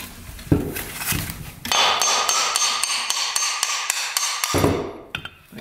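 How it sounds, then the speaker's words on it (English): A hammer pounds a rusty part out of a smoking ATV in a steady run of sharp metallic blows, close and loud, with a few scattered knocks before and after the main burst. "Let's see if we can pound that out with a hammer."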